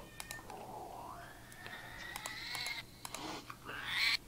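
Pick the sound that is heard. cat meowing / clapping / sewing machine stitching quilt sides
cat meowing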